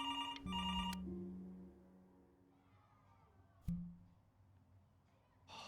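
A telephone rings in the video game Before Your Eyes: a loud tonal ring bursts at the start, then a shorter ring partway through, with quiet ambience between.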